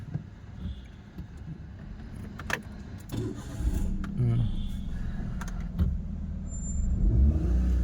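A car engine idles and revs low during a first driving lesson, a rumbling drone with occasional clicks and clunks, while people talk over it.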